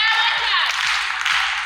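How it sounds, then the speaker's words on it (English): A crowd applauding graduates at a valedictory event in Keffi, Nasarawa State, in a steady, dense wash of clapping, with a few cheers or whistles on top. "So please, a round of applause for our graduates."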